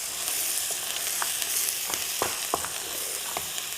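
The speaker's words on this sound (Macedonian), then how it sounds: "Колега Бубе, подсети ме малку да си ја намалам температурата, како сум ја расчурела тавата тука." Stuffed eggplants fry in a hot pan with a steady broadband sizzle, broken by a few soft clinks and scrapes, heard close and alone with no talking.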